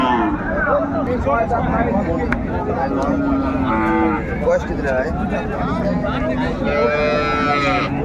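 Sahiwal cows moo repeatedly over a busy crowd of voices at a cattle market, loud and close, with several animals calling in turn amid auction chatter.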